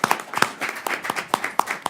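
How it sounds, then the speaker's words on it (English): An audience at a Senate briefing claps in a brief, sparse burst of separate hand claps, fairly close and without talk over it. "how about a round of applause"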